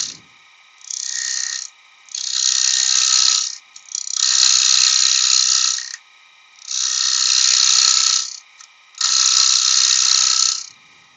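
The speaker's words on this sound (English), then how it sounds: "you can hear it as the tool skips over" A ratcheting tool clicks rapidly in five bursts of a second or two each as it skips over while building a jewellery box, a harsh close-up buzzing rattle with short pauses between.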